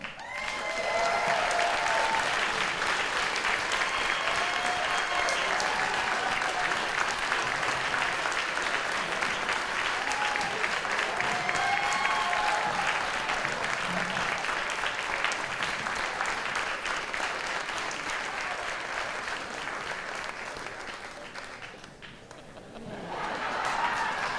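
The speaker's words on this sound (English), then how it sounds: "Please give me a round of applause for Thomas Portman." A large audience applauds at a Daily News Hometown Heroes in Education awards ceremony, sustained dense clapping that carries on for over twenty seconds before fading briefly and picking back up.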